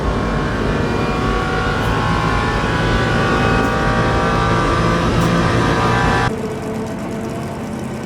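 Race car engine in Le Mans Ultimate at the 24 Hours of Le Mans drones loudly and steadily under acceleration, then cuts abruptly to a quieter, thinner engine tone near the end.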